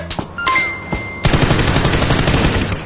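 Rapid automatic gunfire from a video game, a dense continuous burst of loud shots after a few scattered reports and a brief tonal whine.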